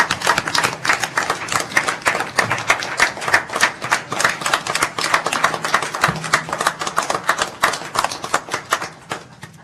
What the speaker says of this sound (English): Let's give Mary a round of applause.